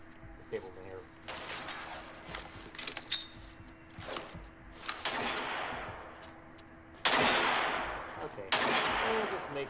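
A noise-making decoy in the game Angels Fall First gives off scattered clicks and clinks, then two sharper gunfire-like bursts near the end. Someone talks quietly over the earlier part.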